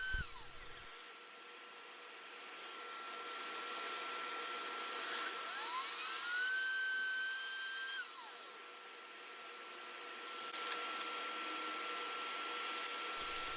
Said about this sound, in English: This is a 1/2-inch cove bit in the router table